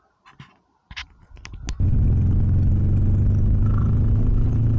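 A Harley Sportster motorcycle engine fires up after a few clicks and knocks, then settles into a loud, steady, close-up rumbling run that holds without a break to the end.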